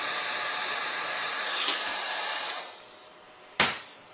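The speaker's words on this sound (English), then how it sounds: "We've got hot air coming through the intake, simulating it." A hair-dryer-like blower pushes hot air into the intake of a Jeep Wrangler YJ, a steady loud whooshing hiss that fades out toward the end, followed by a sharp click.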